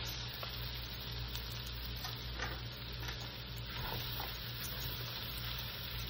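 Boxed jambalaya rice hits a hot pan with browned garlic, giving a steady, close sizzle with scattered stirring scrapes and small crackles throughout.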